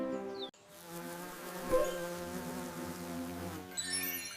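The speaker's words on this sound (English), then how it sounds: "It's a bee." A bee buzzes loudly and close, a steady droning hum with rising and falling pitch that carries on for several seconds.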